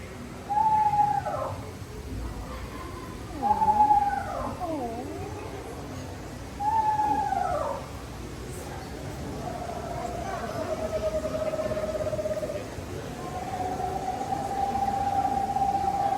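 An eastern screech owl gives several wavering, descending whistles in spaced bursts, followed by a longer steady trill, heard close and clear over a low background murmur.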